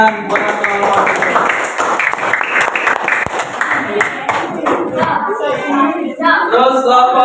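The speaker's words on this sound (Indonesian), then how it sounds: "Tepuk tangan buat kelompok B" A small group at an academic supervision coaching session claps for group B, a steady patter of hands that runs under and between voices speaking, fairly close and moderately loud.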